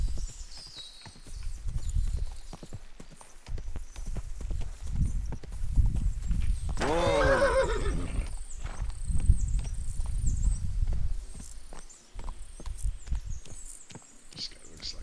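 Steady rhythmic horse hoofbeats in the video game Kingdom Come: Deliverance II clop along for the whole stretch, joined midway by a whinny, with occasional background voices.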